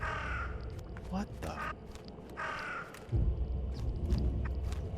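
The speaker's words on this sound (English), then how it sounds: "Birds." Crows caw repeatedly in The Sinking City video game, several harsh calls in bursts over a low ambient rumble, fairly near, while a voice briefly speaks over them.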